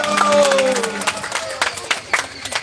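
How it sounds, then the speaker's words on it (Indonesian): An audience at a school event starts clapping after a voice finishes speaking; sharp, scattered claps follow in an uneven, loose rhythm. "Beri tepuk tangan yang meriah."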